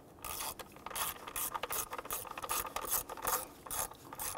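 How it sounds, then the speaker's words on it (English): Ratchet snugging down ignition coil bolts on a 2005-2011 Nissan Frontier 4.0L V6, rapid clicking pawl bursts in repeated back-and-forth strokes, close and fairly quiet with no talk. "Do the same for this one here. Go ahead and snug these down."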